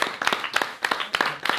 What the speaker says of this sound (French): franchement, on peut l'applaudir.